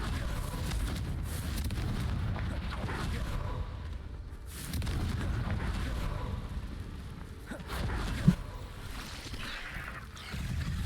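A Confringo fire-blast spell in Hogwarts Legacy bursts amid low, rumbling in-game ambience, with one sharp, brief crack standing out late against the steady background.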